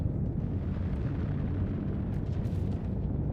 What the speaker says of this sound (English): Oh, yes, some ships got destroyed. I see the explosion.